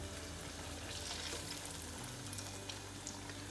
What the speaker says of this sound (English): We'll just let them fry and will not touch them, will not stir them too much.